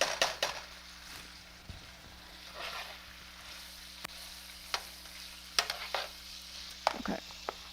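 Onions, carrots and peas sizzle quietly in a greasy soup pot, with a soft continuous frying hiss broken by occasional sharp clacks and scrapes of a spoon against the pot.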